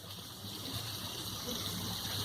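Warm water poured from a glass into a pan of chicken bhuna masala curry, a steady close gushing splash lasting a couple of seconds with no voices over it.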